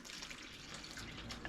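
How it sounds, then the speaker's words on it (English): Water is poured into indoor pots of Canna lilies, making a soft, steady trickle that stays faint and continuous throughout. "we're just gonna put a little bit more water in"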